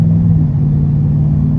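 Deep, steady exhaust rumble from a 2024 Chevy Silverado 1500 High Country pickup with active exhaust, heard close and loud as it accelerates, with no talking.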